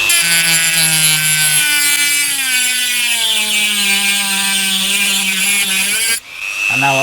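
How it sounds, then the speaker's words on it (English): Dremel rotary cutting tool scoring a line into a metal reflector held in a vise: a close, loud, high-pitched whine whose pitch sags and wavers under load, then stops with a brief clatter. "And now I'll cut into it following that line there. It'll help guide my Dremel cutting tool here."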